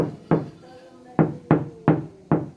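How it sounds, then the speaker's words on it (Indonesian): Five hollow knocks rap on the thick steel body panel of a Mitsubishi Eclipse Cross, close and sharp, with an irregular rhythm and a short faint voice in one gap. "Kita coba ya, kita ketok."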